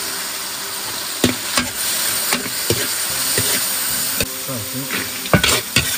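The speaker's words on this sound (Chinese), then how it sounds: "锅中放底油，放入猪肉。 放入葱姜，继续炒香。 放入酱油。" Pork stir-fried in oil with scallion, ginger and soy sauce, sizzling steadily with repeated sharp spatula knocks and scrapes against the wok, close up, with a brief spoken word over it.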